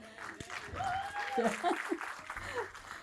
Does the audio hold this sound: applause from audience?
yes